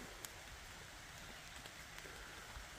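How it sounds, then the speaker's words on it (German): Steady rain falling outdoors in a garden near a path to the fields at Gedser, Denmark, a soft even patter with a few sharper drops, no voices. "Aber jetzt warten wir ein bisschen, es regnet."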